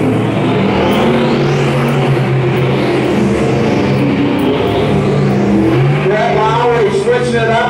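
Sportmod race cars roaring around the Lee County dirt track, loud continuous engine drone with rising and falling revs as cars pass, while a track announcer talks over the racing.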